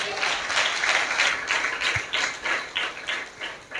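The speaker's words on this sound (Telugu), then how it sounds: "చప్పట్లు కూడా దేవుడిని స్తుతిస్తారా?" A church congregation at a Christmas service claps together in praise, a dense, loud wash of hand claps that settles into a rough pulsing rhythm toward the end.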